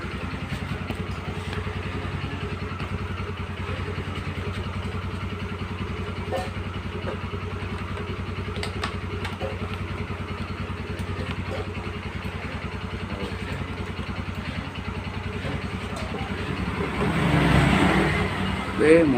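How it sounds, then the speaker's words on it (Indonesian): A kick-started Yamaha Xeon motorcycle idles with a steady, close, rattling throb, swelling louder near the end. "Nah, motor sudah menyala."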